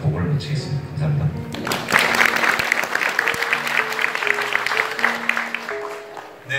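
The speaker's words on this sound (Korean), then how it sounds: "다시 한번 큰 박수 부탁드리겠습니다" After a lecture presenting HRD maturity survey results, the audience claps in a warm, sustained round of applause. Faint voices come first, and a simple stepping melody of musical notes plays beneath the clapping.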